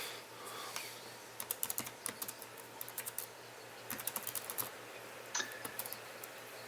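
Fingers type on a quiet, non-mechanical computer keyboard, producing soft, irregular runs of clicky keystrokes with short pauses, heard close over a low steady hum.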